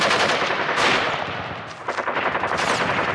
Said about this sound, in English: If you shoot people, you don't want it to sound like this.